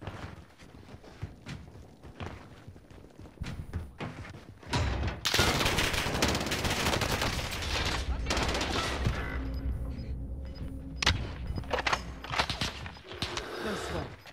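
Light machine gun fire in Call of Duty Warzone Rebirth starts as scattered shots and footsteps, then becomes heavy, sustained bursts from the middle onward, close and loud.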